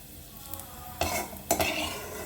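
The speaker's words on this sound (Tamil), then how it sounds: "எண்ணெய் சூடாயிருச்சு முதல்ல கொஞ்சம் வெங்காயத்தை போட்டு முருக விட்டு எடுத்துக்கிறோம்" Onions fry in hot oil with a steady sizzle, interrupted by two sharp stirring scrapes of a spoon against the pan.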